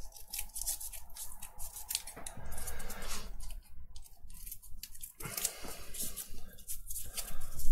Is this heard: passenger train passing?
no